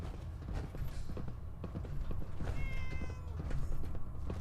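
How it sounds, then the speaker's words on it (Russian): A cat meows inside a Fallout 4 game scene, a couple of drawn-out tonal calls rising over a busy, steady layer of game noise and clatter, moderately loud with no talk. "это кот"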